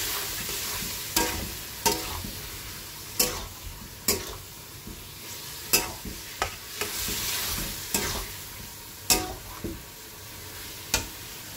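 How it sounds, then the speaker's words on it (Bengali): Vegetables with tomato, turmeric and ground cumin-coriander paste sautéed in a pan: a continuous soft sizzle broken by about a dozen sharp spatula scrapes and taps at irregular intervals. "এদিকে সবজিটা কষিয়ে নিচ্ছি।"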